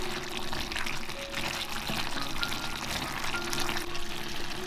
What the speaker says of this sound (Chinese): 我们把红葱头加进来